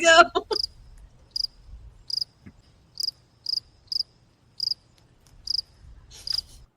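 A cricket sound effect chirps in short, evenly spaced bursts, about eight clear pulses after a brief burst of speech at the start.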